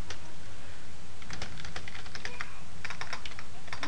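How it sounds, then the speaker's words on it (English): Fast, uneven typing on a computer keyboard, a cluster of close, crisp key clicks with brief pauses, heard alone over a low steady room hum while a Java GUI program is being coded. "I'm, like, fumbling around so much on the keys"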